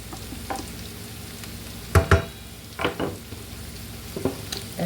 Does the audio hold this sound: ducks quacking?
no